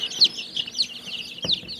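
Soft, high cheeping and clucking calls from baby chickens, a few short bursts close by with quiet gaps between.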